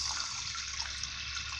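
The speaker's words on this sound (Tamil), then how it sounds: "3 கப் அளவு தண்ணி வந்து ஆட் பண்ணிக்கோங்க" Water pours steadily into a cooking pot for sago payasam, an even, close splashing rush with no pauses.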